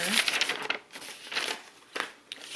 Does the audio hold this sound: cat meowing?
no